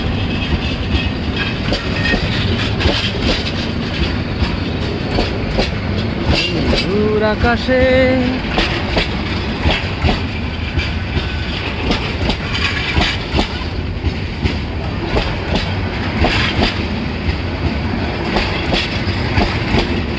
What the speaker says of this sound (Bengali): ধীরে ধীরে ট্রেনটা আসতেছে